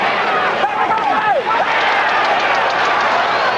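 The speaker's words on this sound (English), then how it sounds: "Crowd, you hear them every time Chiaverini lands a blow" Boxing arena crowd at a Sugar Ray Leonard fight against Tony Chiaverini, a dense, steady roar of cheering and hubbub throughout, with a brief voice rising over it near the start.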